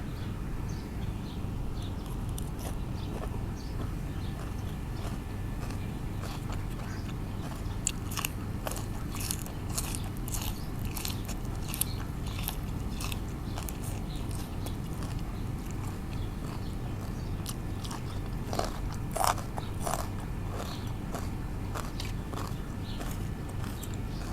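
Spicy Thai pickled clam salad eaten with steamed rice, giving soft wet chewing and occasional crisp crunchy bites close to the mouth, steady and intimate with no talking.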